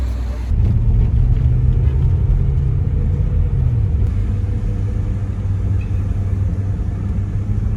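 A car engine rumbles loudly from inside the vehicle on the drive to a village in Uzbekistan, a steady low drone with a slight shift in pitch partway through, no talk.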